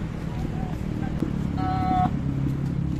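Cars pull in and out of a crowded parking lot at Aani Market in Arca South, a steady low engine rumble with a brief tonal beep midway and faint voices in the background.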